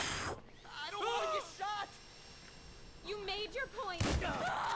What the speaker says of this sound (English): Everybody just calm down while I'm shooting rounds of ammunition near your bodies.